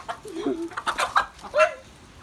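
Chickens cluck and squawk nearby in a quick series of short, uneven calls.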